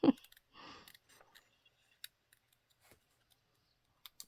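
Scissors cutting paper in rounded bubble cuts for a grungy honeybee comb junk journal topper, a short burst of close snipping followed by a few faint scattered clicks and taps in a quiet room.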